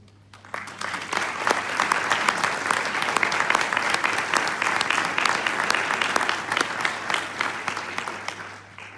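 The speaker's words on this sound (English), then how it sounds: "give yourself a big round of applause" A large graduation audience at St. George's Park claps continuously after a quiet start, a dense, even wash of applause that holds steady and fades a little at the close.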